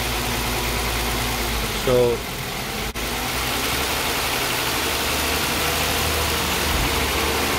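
Engine of a Kia Stinger GT with a GDI engine, idling steadily and loud close by, with a brief slight rev partway through and a short click; a voice speaks briefly at the start.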